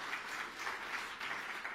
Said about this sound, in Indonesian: tepuk tangan yang meriah untuk kemuliaan nama Tuhan